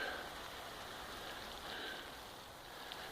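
Steady broadband hiss of water spraying onto garden plants, a continuous soft shower with no break, fairly faint and even throughout.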